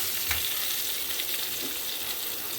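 Chopped small onions (shallots) sautéing in a pan for a drumstick-leaf soup, a steady close broadband sizzle with a few faint stirring scrapes, no voices.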